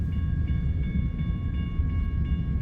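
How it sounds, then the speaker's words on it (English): A Southern Pacific freight train rolls into a rail yard with a steady heavy rumble of wagons, with faint high tonal squeals from wheels or brakes drifting over it, continuous and fairly close. "There's a Southern Pacific coming."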